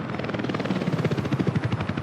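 A helicopter in the city-building game Workers & Resources passes close and loud, its rotor beating in a fast, steady chop that swells slightly as it goes by.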